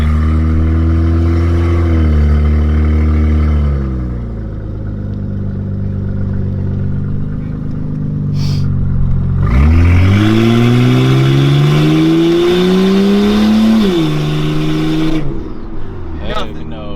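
A turbocharged Toyota 1JZ engine in a Soarer revs up and down loudly nearby, pitch climbing sharply midway with a whooshing turbo whine, while people talk over it.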